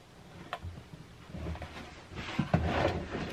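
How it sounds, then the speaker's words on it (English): A heavy-duty ball bearing drawer slide in a Northwood RV rolls as the drawer is pulled out, giving faint clicks and a soft low rumble that builds toward a couple of sharper knocks near the end. "So the first thing we're going to do is pull out this drawer."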